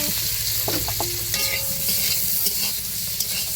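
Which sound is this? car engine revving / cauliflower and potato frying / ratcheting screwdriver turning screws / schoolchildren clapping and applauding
cauliflower and potato frying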